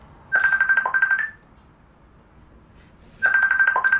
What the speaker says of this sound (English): Bloody hell, getting a phone call.